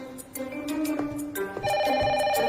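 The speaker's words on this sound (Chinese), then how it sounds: "喂，你的电话。" A telephone rings in an office scene from a drama film, a bright repeating electronic ringtone with a steady tonal pattern that continues for the whole short clip.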